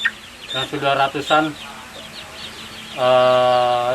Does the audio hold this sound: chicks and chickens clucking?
yes